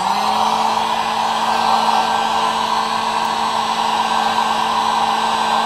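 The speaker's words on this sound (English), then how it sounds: "and I'm using a heat gun." A heat gun blows hot air onto newspaper coated in white glue, giving a loud, steady whooshing roar with a constant whine that runs unbroken and alone.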